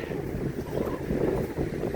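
Steady, rough wind rushing and buffeting against the microphone, a continuous low roar with no voices.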